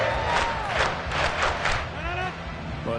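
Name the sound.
stadium crowd noise in the Madden football video game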